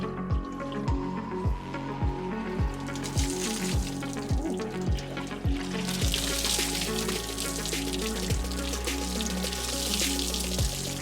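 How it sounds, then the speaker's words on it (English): Water is poured and sloshes over the glass panoramic roof of a 580BHP LS3 Defender 110 during a leak test, a continuous splashing rush that grows broader and louder partway through, with rhythmic thumps beneath it. "Leon, when you're ready, pour the water."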